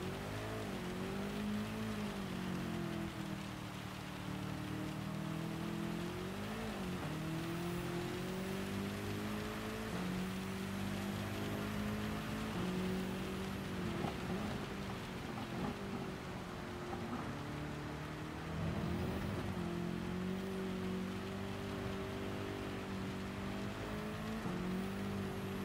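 Rain hissing steadily over a wet Spa circuit in Gran Turismo 7, with a race car's engine droning and rising and falling continuously beneath the downpour, no voices.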